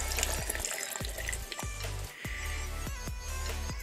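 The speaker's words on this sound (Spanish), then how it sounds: "ahora que tenemos nuestros tres ingredientes, le vamos a agregar lo que son dos vasos de agua." Two glasses of water poured from a tap-like stream into a blender jar holding pineapple, apple and papaya for juice, a steady splashing gush with a few gurgling breaks, close and continuous, no talking.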